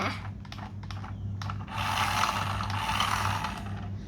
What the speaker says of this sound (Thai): เหรอทำไมล้อมันยังหมุนอยู่ล่ะ